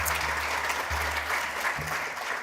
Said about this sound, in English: can we please give Annabelle and Cole another round of applause?